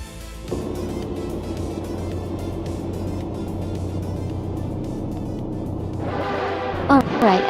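Race cars roaring around Dover International Speedway in a racing video game, a steady loud engine drone throughout, with a sharper burst of higher engine and effects noise near the end, under talk.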